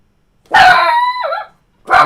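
A dog lets out a long, loud bark that trails into a whine, followed by a second sharp bark, close and alone.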